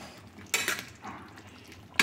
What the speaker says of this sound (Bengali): একটু মিশিয়ে নিই, জাস্ট একটু বাড়িয়ে দিয়ে গ্যাসের ফ্লেমটা অফ করে দিলাম।